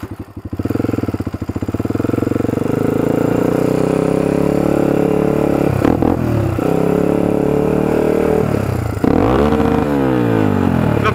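A Honda 300EX ATV engine winds up in fifth gear on a top speed run, a loud, sustained roar whose pitch climbs steadily and dips briefly at two gear changes, with no talk over it.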